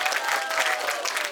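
Audience applause at a fourth-anniversary celebration on an Indonesian event stage, a lively, fairly loud burst of many hands clapping with faint crowd murmur woven through.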